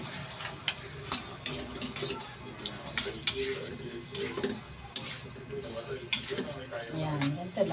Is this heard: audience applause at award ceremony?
no